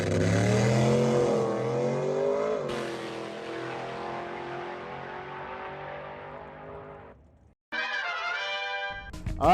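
A drag racing truck called Stitch at the 2023 Truck Nationals roars through a test pass, its engine loud and close, pitch climbing then sweeping down as it runs out, cutting off briefly before a second high revving burst.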